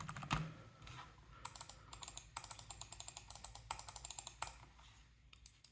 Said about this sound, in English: Typing definitely won't be an issue here.